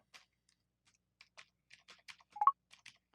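Sparse, soft tapping on a braille keyboard on a touchscreen device, a dozen scattered light taps with a couple of brief electronic blips in quiet surroundings.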